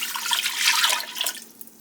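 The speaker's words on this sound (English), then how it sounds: "We're going to add in our 2 cups of protein broth" Protein broth pours into a soup pot with coconut milk for a vegan broccoli cheddar soup, a close, full splashing gush that thins out toward the end, with no voices.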